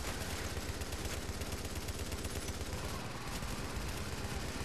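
Sustained automatic fire from an M249 light machine gun in The Division, set during the Times Square power relay mission, a dense continuous rattle of rapid shots at steady loudness for several seconds with no pauses.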